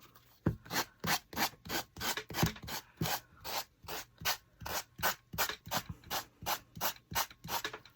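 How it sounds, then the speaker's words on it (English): Finger sander working along the edges of painted scrap wood, a close, rhythmic rasping with repeated short strokes roughly every half second, steady and alone without talk. "I'm just going to go around the edges with this sander, finger sander, and get the extra off."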